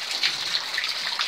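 Water pouring and trickling inside a flooded apartment, a steady hissing splash with small gushes, heard close and alone over the brief moment.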